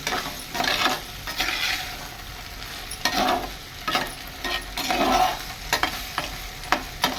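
Tomato is stirred and sautéed in a pan for a Kerala squid roast. Loud, repeated scraping strokes come every second or so over a continuous close sizzle, with no voices.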